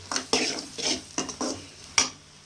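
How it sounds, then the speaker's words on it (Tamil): Ingredients for pasta are sautéed in a pan over a high flame, with rhythmic scraping strokes of a spoon over a steady light sizzle, close by and without voices. "தீயை கொஞ்சம் ஃபாஸ்ட்டாக வச்சு நல்லா அந்த வணக்குனிங்கன்னா பச்சை வாசமாக போயிடும்"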